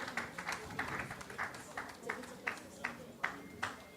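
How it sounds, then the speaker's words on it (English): An audience applauds at the Africast 2025 conference stage event, a steady wash of many hands clapping with a few sharper claps standing out near the end, fairly distant and mixed with crowd noise. "Please, let's give them a round of applause as they make their way to the stage."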